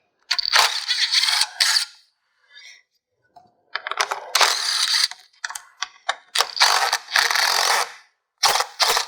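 A hand ratchet clicks rapidly in close, loud bursts while removing 10 mm bolts from the skid plate of a 2019 Acura TLX, with short quiet gaps between each run of turning.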